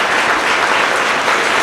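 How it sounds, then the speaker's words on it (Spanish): Dense, loud applause from a conference audience fills the whole moment, a steady wash of many hands clapping with no voices on top. "yo les pido un aplauso más fuerte"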